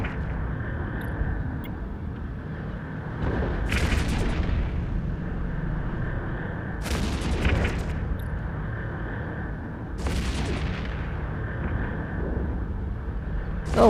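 Weapons fire in EVE Echoes space combat, three sharp bursts spaced a few seconds apart over a steady low hum of ship engines, no voices.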